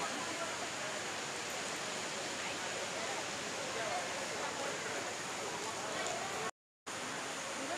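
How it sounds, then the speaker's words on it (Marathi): A big waterfall with a strong, heavy flow pours in a dense, unbroken roar that stays loud and even throughout, with one short cut to silence near the end. "हे बघा मित्र समोर आपल्याला पाहायला मिळतं धबधबा."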